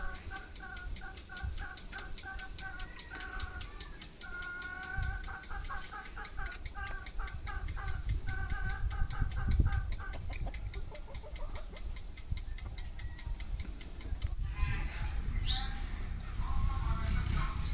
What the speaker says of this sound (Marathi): या ठिकाणी कोंबड्यांचं चालूच आहे